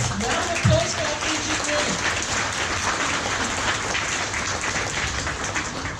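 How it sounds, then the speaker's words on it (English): Round of applause from a reunion crowd at an evening celebration in Sydney, steady clapping throughout with a few brief voices and cheers mixed in near the start. "round of applause for our"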